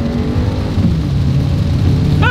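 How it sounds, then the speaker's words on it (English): A 2024 Volkswagen Tiguan in sport mode accelerates on a road in a heavy downpour. A steady low engine rumble blends with dense rain and road noise, loud and continuous throughout. "see how quickly we can get our new 2024 Tiguan here up to speed in this downpouring rain"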